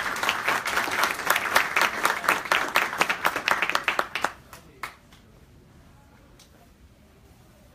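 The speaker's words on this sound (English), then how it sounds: "So please, a round of applause for her this morning." A round of applause at a policy briefing, dense clapping from an audience for about four seconds, then thinning to a few scattered claps and fading out.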